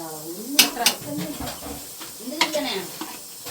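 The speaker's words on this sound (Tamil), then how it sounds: "நான் அந்த குழம்பு அடுப்பில் போட்டு கிண்டுறேன்" A spoon scraping and stirring curry in a pot on a stove, intermittent clinks and scrapes over a soft sizzle, with someone talking in Tamil alongside.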